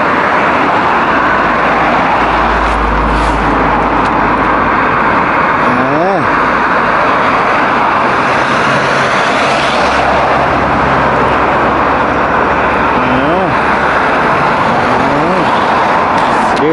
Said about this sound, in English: Here you have a BMW, a crazy Land Rover they're overtaking, a Hyundai, yeah, electric car